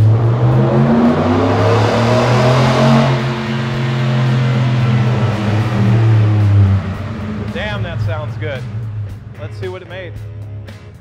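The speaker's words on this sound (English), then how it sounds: "So let's fire it up, see what it sounds like first." A Ford F-150 pickup with the 5.0 Coyote V8 and a Varitune cat-back exhaust set to full open fires up and runs with a loud, deep, rising rumble. A voice talks over the steady engine drone near the end.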